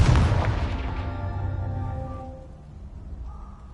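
A Confringo blasting spell goes off in the video game Hogwarts Legacy, giving a loud, deep boom at the start that rumbles and rings out over a few seconds before settling into a quieter tail.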